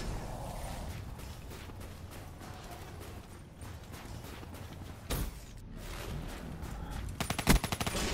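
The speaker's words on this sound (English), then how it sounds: "Burst firing with a kudu with no attachments" Short bursts from a Kuda SMG with no attachments fire in a Black Ops 3 hardcore team deathmatch. The shots are fairly quiet and come as clipped, rapid bursts, the last a quick string of cracks near the end, over low game ambience.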